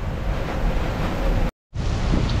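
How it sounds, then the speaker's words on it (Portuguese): Storm with heavy rain, water and wind during a corn harvest, a loud dense rushing roar that cuts out briefly and then resumes. "Água e vento."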